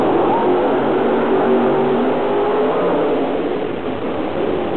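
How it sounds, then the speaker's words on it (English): The big blown motor of the Gravedigger monster truck roars at a steady, loud pitch across an arena, its heavy engine revving continuously. "He's running the big blown motor of the Gravedigger."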